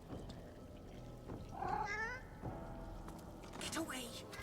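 A cat in the fantasy role-playing game Divinity: Original Sin II gives two drawn-out, wavering meows, close and clear, with a voice speaking faintly around them.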